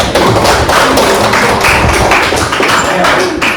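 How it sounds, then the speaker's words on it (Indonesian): Applause fills a classroom, a loud dense burst of many hands clapping together for several seconds. "kita berikan aplaus"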